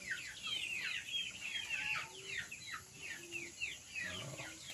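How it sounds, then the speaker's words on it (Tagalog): Backyard heritage chickens cluck and chatter continuously at feeding time, producing close, busy overlapping calls with no talking. "papakain na tayo sa mga alaga nating manok chicken"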